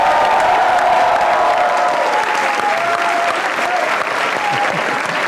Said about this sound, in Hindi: आपकी भरपूर तालियों में मुनव्वर मकसूद।